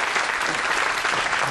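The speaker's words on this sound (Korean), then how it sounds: "큰 박수로 환영해주세요." A studio audience on a Korean science talk show bursts into dense, sustained applause welcoming a guest, a loud, continuous roar of many clapping hands with no pause.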